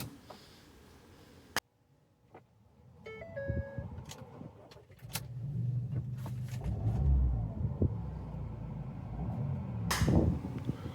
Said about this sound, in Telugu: సింగిల్ సెల్ఫ్లో కార్ స్టార్ట్ అవుతుంది